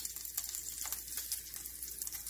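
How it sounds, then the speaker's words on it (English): Prime rib just out of the oven, fat on top sizzling and crackling in a steady hiss with soft pops, close and quiet, no voices. "It's sizzling."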